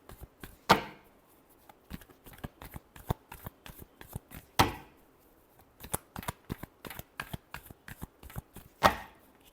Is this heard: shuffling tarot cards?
yes